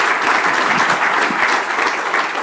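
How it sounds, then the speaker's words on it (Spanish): Sustained audience applause at a talk on business strategy, a dense, steady wash of clapping from many hands filling the room without a break. "Aplauso de nuevo."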